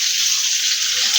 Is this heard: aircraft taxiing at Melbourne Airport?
no